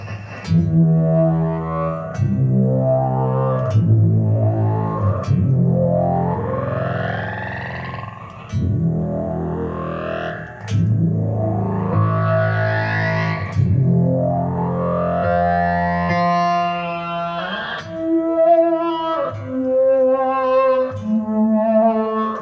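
An Electro-Harmonix SYNTH9 synthesizer pedal drones with thick distorted tones that swoop and glide in pitch as its octave control is swept, dropping and jumping between octaves over a sustained passage.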